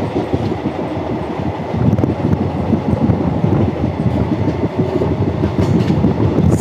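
An Indian Railways passenger train in South India runs along the tracks with a loud, steady rumble and rhythmic clickety-clack of wheels, heard close up with no voices.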